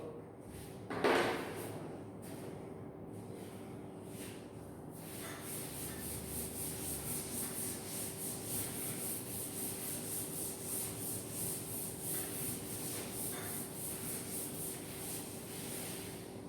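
A duster rubs across a classroom board in a steady, continuous scrubbing that runs close and moderately loud, with a short sharper swipe near the start before the rhythmic strokes settle in.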